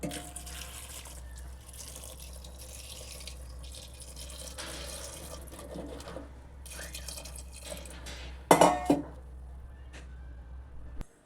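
Water is poured into a pressure cooker holding washed vegetables, beetroot among them, for pav bhaji. It makes a faint trickle with light drips, then a brief louder splash near the end.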